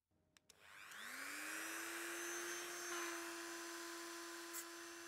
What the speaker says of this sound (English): grab the Dremel tool, cut the head off the bolt